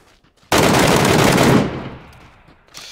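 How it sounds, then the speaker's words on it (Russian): Burst of rapid automatic fire from an MK-14 rifle on full auto in PUBG, a loud, dense volley of about one second that cuts off and leaves a fading echoing tail. "Смотрите, как она стреляет на автомат по 10 патронов."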